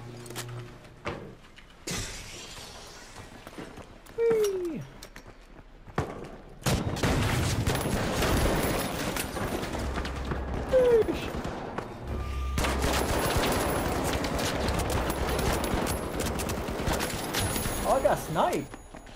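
Sniper gunshots ring out in a tactical shooter game, sharp cracks amid dense bursts of gunfire and crashing action, with players talking excitedly over the battle.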